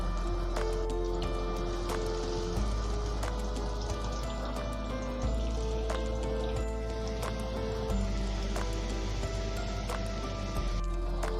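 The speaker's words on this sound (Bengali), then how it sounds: "আমি ছাকা তেলে ডিপ ফ্রাই করে নিচ্ছি পকোড়াটা" Pakoras of helencha greens dipped in batter deep fry in hot oil, giving a steady bubbling crackle with scattered sharp pops throughout, close and continuous, with no talking.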